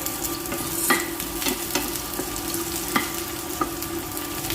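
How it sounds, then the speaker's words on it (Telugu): Onions, green chillies and cumin fry in a pan with a steady close sizzle, broken by regular scraping taps as the mixture is stirred. "ఇలా కట్టి కడుక్కొని ఈ నల్లేరు కూడా ఇందులోనే వేసుకొని కొంచెం బాగా వేయించుకోవాలండి"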